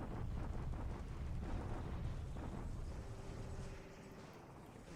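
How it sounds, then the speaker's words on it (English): Bombardment explosions over Liuchow in the strategy game War In The Pacific: AE roll on as a dense, continuous low rumble of blasts, fairly faint and distant, fading toward the end. "our daily bombardment at Liuchow"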